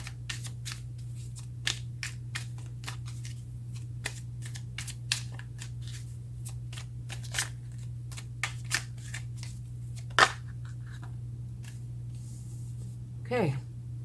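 Tarot cards shuffled and drawn on a table: soft repeated riffling taps and flicks, scattered and quiet, over a steady low hum with brief faint speech.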